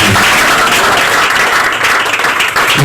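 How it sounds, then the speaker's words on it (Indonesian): Congregation at a Christian fellowship gathering clapping in praise, a loud, continuous roar of many hands filling the whole moment with no speech over it. "Beri tepuk tangan berkemuliaan."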